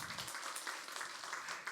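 Congregation in a church service clapping in a steady, fairly distant wash of applause lasting about two seconds, with no talk over it.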